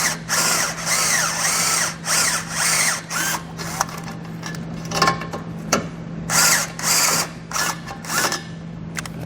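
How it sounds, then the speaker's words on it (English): A step drill bit enlarges holes in thin metal, running in a series of loud whirring bursts separated by short pauses as the bit cuts and stops repeatedly. "what I'm going to do is take a step drill bit, enlarge this one to 1/2 inch and this one on the bottom"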